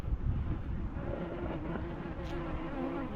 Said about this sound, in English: That's wasps. There's a few bees as well, but mainly that's wasps.